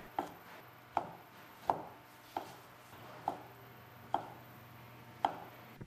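Shiitake mushrooms, cleaned and drained, being diced small with a knife on a cutting board: seven crisp, evenly spaced chops at a steady, unhurried rhythm, close and clear, with no talking.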